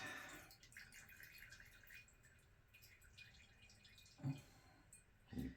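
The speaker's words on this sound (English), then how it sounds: "the shower head's peeing, which I hate this freaking shower head" A shower head drips water in a quiet bathroom, faint soft trickling with a couple of louder drops near the end, no talk.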